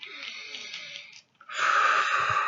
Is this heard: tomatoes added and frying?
no